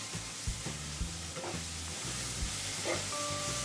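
Masala for brinjal gravy sizzles in a hot pan while a spoon scrapes and stirs in a few rhythmic strokes, close up over a faint hum.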